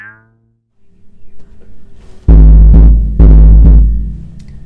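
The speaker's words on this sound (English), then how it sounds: "So let's try a smaller bass drum." Smaller orchestral bass drum struck twice in a percussion section, each hit a loud, deep boom that rings and slowly decays, the second coming about a second after the first, preceded by faint softer tones.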